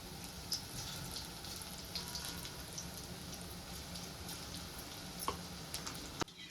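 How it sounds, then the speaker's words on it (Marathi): Okra fritters fry in hot oil with a soft, even, rain-like sizzle throughout, ending in a single sharp clink near the close. "तर आता तळण्यासाठी मी एक एक भेंड्या सोडून घेते."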